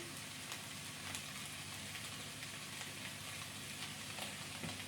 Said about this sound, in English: I'm going to let that saute for about 20 minutes